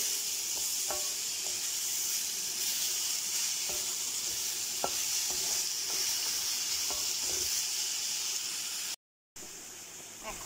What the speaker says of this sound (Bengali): সামান্য নুন আর 100 গ্রাম পরিমাণ চিনি। এগুলো ভালো মতন নাড়িয়ে চাড়িয়ে নিচ্ছি।